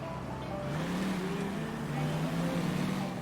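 Car engine in the L.A. Noire video game, with a thin, buzzy tone like a two-stroke lawnmower, running as a steady, fairly quiet drone with slight pitch wavering throughout.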